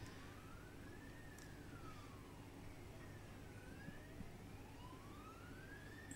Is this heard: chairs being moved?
no